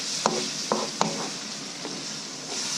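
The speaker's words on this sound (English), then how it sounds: "Go ahead and give it a quick mix." Ground beef with black pepper sizzles in a pan while a utensil gives a few quick scraping stirs, then the frying hiss carries on alone.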